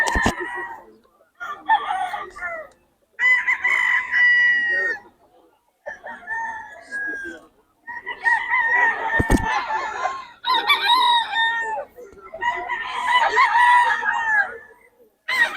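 A bull stag rooster at a market crows over and over, loud and close, in repeated harsh calls with short clucks and a few pauses between them.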